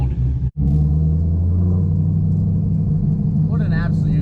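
A twin turbo build car engine idles with a deep, steady rumble that cuts out briefly near the start, while a voice speaks faintly near the end.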